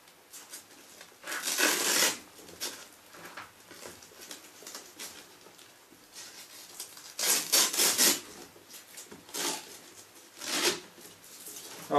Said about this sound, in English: So I pull this loop off.